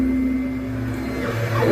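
A Makerbot Method 3D printer running a print sliced in Simplify3D 5.1, halfway through the job: a steady close mechanical hum with a constant tonal whine and a short rising motor sweep near the end.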